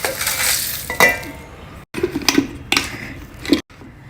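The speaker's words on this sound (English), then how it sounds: "So first we'll put the chilies into this jar." Dried chilies drop into a steel mixie jar for an Instagrind floor mill in scattered light clinks and rattles, a few sharp taps separated by brief silences, close and crisp.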